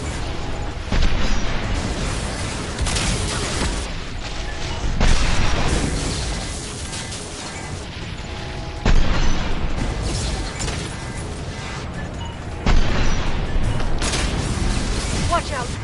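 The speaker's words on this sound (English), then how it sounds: "Watch out, flashbangs!" Flashbang grenades going off in Mass Effect Legendary Edition: several heavy, sharp blasts spaced a few seconds apart over constant loud combat noise, with voices talking in between.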